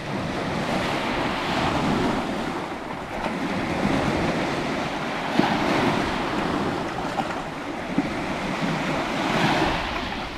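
Sea waves roll onto a rocky shore at Liepāja's southern forts, a loud, continuous wash of surf that swells and recedes in slow surges, with wind buffeting the microphone.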